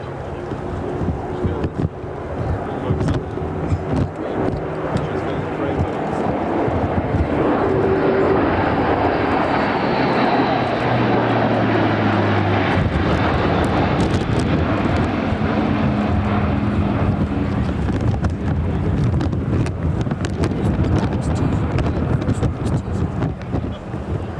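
A Luftwaffe Airbus A400M turboprop transport roars through an airshow display at RIAT, its engines loud and continuous throughout with rising and falling pitch as it passes, and a commentator talks over the noise.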